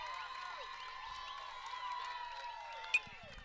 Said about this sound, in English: Crowd getting worked up a little bit here